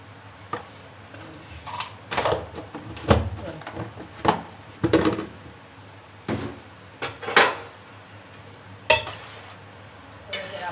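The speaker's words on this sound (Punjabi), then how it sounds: "ਮਾਂਜ ਦੇ ਭਾਂਡੇ" Pots and dishes being washed by hand clatter and clank in scattered, sharp knocks, with sounds of setting down and sliding metal utensils, close by, and faint voices in the background.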